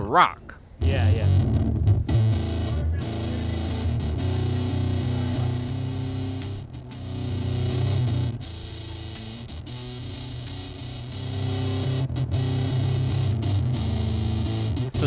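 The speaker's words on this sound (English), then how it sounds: "So this is the Dizzy Tone by Jext Telez version 5." Bass guitar played through a Jext Telez Dizzy Tone version 5 pedal, a thick distorted low end sustaining steadily for most of the clip with brief dips, loud and close.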